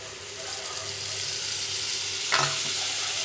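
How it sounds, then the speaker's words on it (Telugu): Egg bhurji sizzles steadily in a hot pan, with a brief splash and hiss as milk is poured in partway through, close and continuous. "కొద్దిగా పాలు పోస్తున్నాను"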